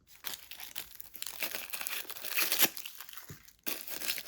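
Wrapping on a Mini Snippets washi tape sticker set being torn and crinkled open, several close, quiet rips and rustles separated by short pauses.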